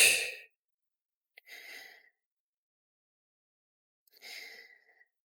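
Deep exhales during a core workout, a strong breath at the start followed by two softer, longer breaths a couple of seconds apart, close and fairly quiet with no talking.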